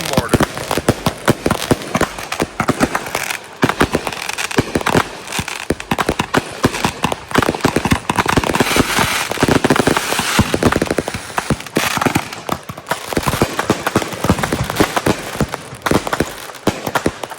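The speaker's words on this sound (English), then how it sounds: "One guy filling mortars, the other lighting mortars." Firework cakes and mortars go off at close range during a July 4th backyard show, a dense, continuous barrage of crackling bursts and booms with people talking underneath.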